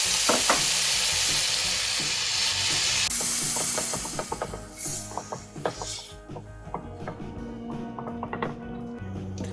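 Sliced tomatoes, about three, go into a pan of sizzling masala for shrimp biryani, producing a loud, steady crackling fry with scraping stirring and clinks of a utensil, alone without talk.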